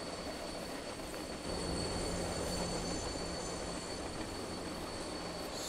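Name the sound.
train running in a video game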